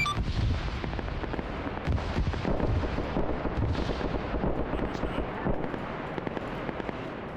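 Sustained heavy gunfire from a 1945-era video game, with dense rapid bursts aimed at enemy aircraft. It rolls continuously at high volume and does not pause.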